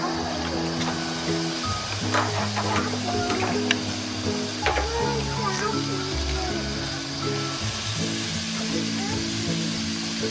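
Chicken pieces frying in a hot pan, a continuous sizzle running throughout at moderate level, with occasional clinks and spatters while a person talks over the cooking.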